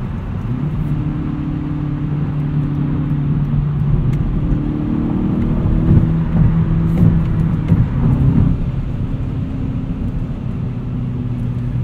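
A 2016 Hyundai Veloster Turbo Rally Edition engine hums steadily from inside the car, its pitch rising and shifting as it accelerates through a higher-speed corner, then settling into an even drone.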